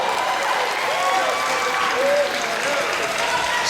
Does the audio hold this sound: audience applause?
yes